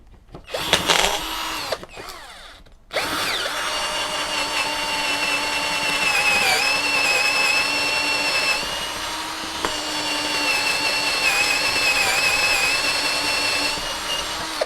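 A Topshak TS-ED1 hammer drill bores with a large bit at low speed, loud and close, whining steadily with slight pitch dips as it loads, after a few short starting bursts.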